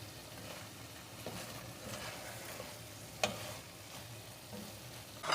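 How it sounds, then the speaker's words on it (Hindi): Chicken filling is stir-fried in a pan with a soft, steady sizzle, plus occasional light clinks and scrapes of stirring. "थोड़ा सा हम इसको भून लेंगे 5 मिनट"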